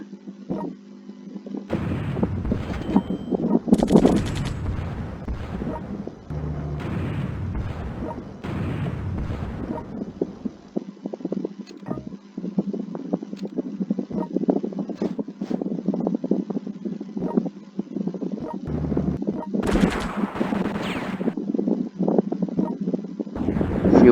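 Gunfire and explosions as forces attack a city in the World Conqueror 3 strategy video game, a continuous rumble broken by repeated loud booming bursts of artillery and bombing.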